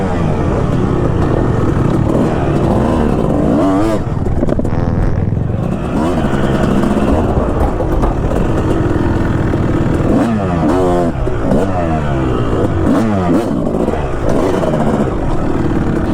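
Old 2005 Kawasaki KX250 two-stroke dirt bike ridden on an endurocross course, its engine loud and close, revving up and down in repeated bursts with crackling throttle swings throughout.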